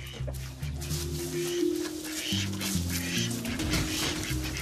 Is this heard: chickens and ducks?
yes